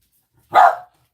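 A single short dog bark sounds up close, loud and alone in otherwise silent surroundings.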